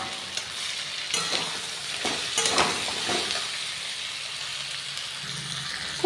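Cauliflower and potato are stirred into a frying spice paste in a pan for a rohu fish curry, with a steady sizzle and repeated scraping stirs up close and no talking.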